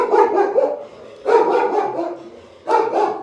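A dog barks in three separate bursts of a few quick barks each, loud and close, with short pauses between, and no talk over it.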